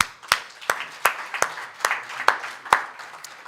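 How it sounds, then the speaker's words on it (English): A few people in a live-streamed audience give sparse clapping: isolated, sharp hand claps at an irregular rhythm, roughly two per second, fairly close and moderately loud, with no talking. "And I think every single one of you deserve a round of applause."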